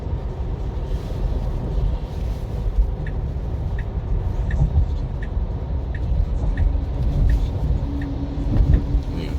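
Steady low road rumble from a Tesla Model 3 driving through Washington D.C. city streets, with continuous tyre and traffic noise and a faint repeating high tick throughout.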